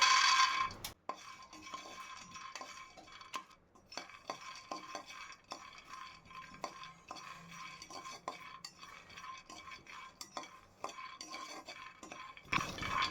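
Peanuts are dry roasted in a pan for a multigrain baby health mix. Light rattling, scraping and clinking of nuts and spoon against the pan repeat throughout, fairly quiet and close, with a louder clatter at the start and end.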